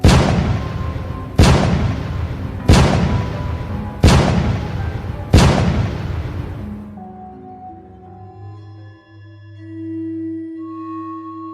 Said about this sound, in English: 5 cannon shots can be heard in the distance.